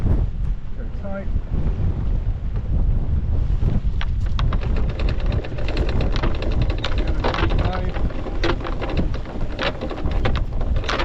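A strong squall roars into the microphone while a boat anchors at East Head, with heavy, constant wind buffeting and rain pattering loudly close by, and a voice speaking under the gusts.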